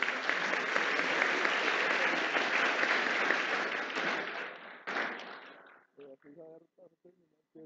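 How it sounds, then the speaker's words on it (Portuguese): Applause from an audience at a Goiás legislative honor session for criminal experts, a dense steady round of clapping that gradually thins out, ending with a few scattered claps and brief voices. "Doutor Roberto, salva de palmas para o nosso amigo."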